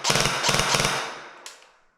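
A CZ Scorpion EVO airsoft electric gun fires a quick three-round burst of sharp, close, rapid cracks, then the sound fades, followed by a single faint click.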